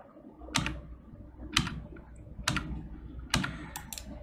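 Computer keyboard keys pressed one at a time during UV mapping work, four or five crisp separate clicks spaced about a second apart, close and fairly quiet.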